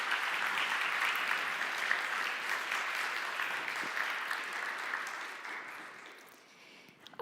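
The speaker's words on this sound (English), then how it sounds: "Let's give him a big round of applause." An audience applauds after a remote keynote by a Harvard government professor, steady dense clapping that holds for about six seconds, then thins and fades out near the end.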